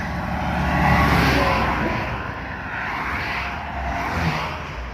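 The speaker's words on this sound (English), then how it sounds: "Now I'm stepping off because I see a big 18-wheeler coming at me." A big 18-wheeler truck on a road with a gravel shoulder passes close by in a steady, loud rushing roar that swells and fades over several seconds, with no talking.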